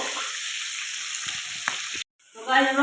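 Onions and spices frying in a pan, a steady loud sizzle with a few soft stirring clicks, briefly cut to near silence before the sizzle returns with a faint voice-like hum over it.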